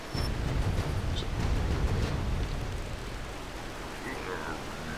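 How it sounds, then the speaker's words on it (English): A waterfall near Adams Falls in the video game Bigfoot gives a steady, broad rushing roar of water that stays fairly loud throughout and eases slightly toward the end. "oh, there is a waterfall."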